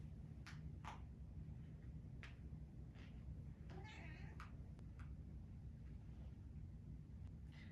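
A house cat gives a single faint meow partway through a quiet indoor scene, with soft scattered clicks and low background hum around it.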